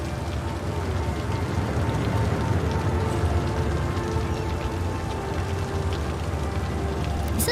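Steady, heavy rain in the Cities: Skylines video game, a dense continuous patter and hiss of drops on surfaces that holds at an even, fairly loud level throughout with no voices.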